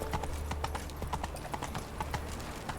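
Rapid, steady clip-clop of horse hooves in the video game Witcher 3, a quick trotting rhythm of sharp hoof strikes over a low ambient game background.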